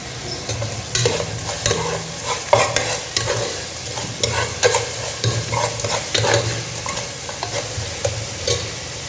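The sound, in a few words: broken dried red chillies sizzling in a frying pan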